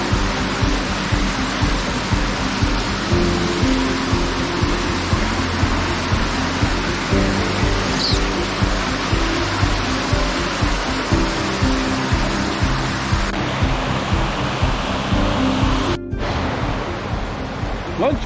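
Creek water rushes over a trail at Honey Creek in Big South Fork, a loud steady wash of flowing water close by that fills the whole stretch, with a voice briefly heard over it.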